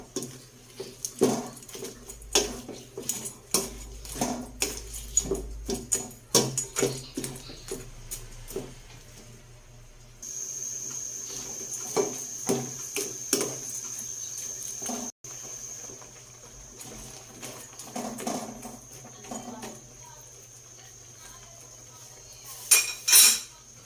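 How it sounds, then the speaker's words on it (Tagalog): Ladle stirring ginataang hipon, shrimp in coconut milk, in a metal pot: steady clinks and scrapes of utensil against the pot in an irregular rhythm, with a steady hiss from about halfway and a few louder knocks at the end. "haluin natin"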